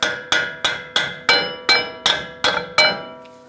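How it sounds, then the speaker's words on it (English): A hammer taps the front axle of a Ram 1500 nine times in a steady rhythm, each bright metallic strike ringing briefly before the next, close and loud. "Just give the axle a light tap."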